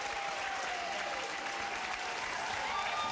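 Studio audience on the Maury talk show clapping in a steady, dense wash of applause that runs without a break for a few seconds.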